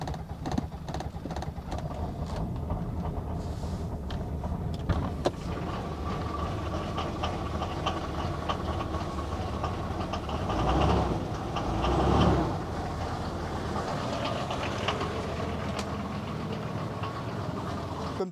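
An old diesel Jeep engine after preheating gives a steady, rough mechanical rumble close by, with two brief swells in loudness near the end and no voices.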